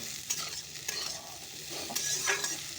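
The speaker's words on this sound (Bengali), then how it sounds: "মটরটা যখন দিলাম তাহলে একটু ভাজা ভাজা করে নিই" Peas fry and are stirred in a pan during home cooking, giving a soft steady sizzle with a few light scraping strokes of the spoon and no talking.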